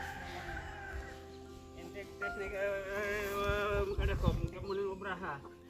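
Chickens cluck and a rooster crows close by, with a person talking over the birds.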